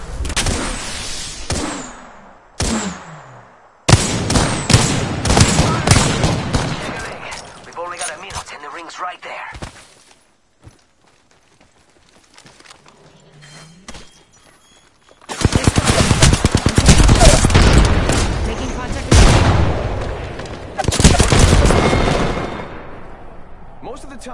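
Rapid automatic gunfire bursts from the video game Apex Legends, loud and close, with dense volleys separated by a quieter gap and a voice speaking among the shots.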